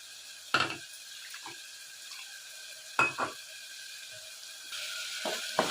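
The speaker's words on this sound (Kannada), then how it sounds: "ನೋಡಿ, ಈ ರೀತಿ ಫ್ರೈ ಮಾಡ್ಕೊತಾ ಇದ್ದೀನಿ." Onion masala for pav bhaji frying in a pan gives a soft, steady sizzle, broken by a few sharp clinks and scrapes of a spoon stirring against the pan.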